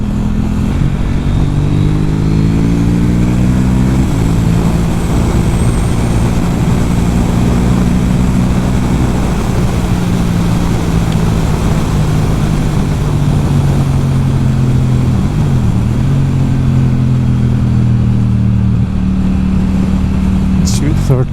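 Steady, loud engine drone from a KTM 790 Duke under way, its pitch slowly rising and falling as it moves through the gears, with constant wind rush and a voice talking over it.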